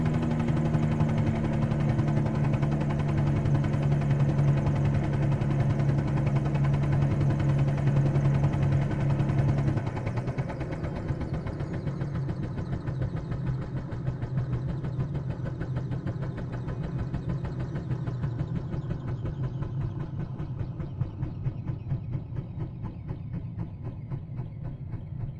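A Bell 47-G2 helicopter engine in a flight simulator drones loudly and steadily, shifting to a rougher, strained tone partway through as if over-revving, continuing without pause.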